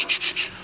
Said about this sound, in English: So you can file this, that'll get it kind of smooth.